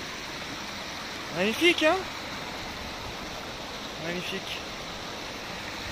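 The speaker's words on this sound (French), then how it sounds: "Allez, ça, la petite rivière." A small mountain river flows with a soft, steady rush of water. Someone speaks briefly over it twice.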